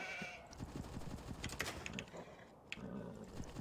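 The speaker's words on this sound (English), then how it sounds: "Probably shouldn't have killed that sheep yet." Sheep bleating in a strategy video game, a few short wavering bleats close up over soft clicking and tapping, no talk.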